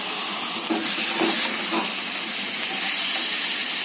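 Chicken pieces for chicken curry frying in a hot kadai wok, giving a loud, continuous steamy hiss and sizzle with a few faint knocks near the start.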